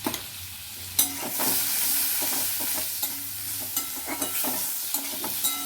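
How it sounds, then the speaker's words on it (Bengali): Diced potatoes with turmeric powder stirred in a hot frying pan: a continuous close sizzle broken by repeated sharp scrapes and clacks of the spatula against the pan, with a low hum underneath and no talking. "দিয়ে এটা আমি একটু সামান্য নাড়াচাড়া করে নেব।"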